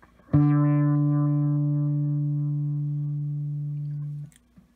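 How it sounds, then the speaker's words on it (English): An Empress ZOIA modular pedal patch with a four-step sequencer sounds one held, buzzy electronic tone that starts sharply, fades slowly over about four seconds, then cuts off. "I have a four-step sequencer here. So it's going to sound like, you know, different steps going back and forth."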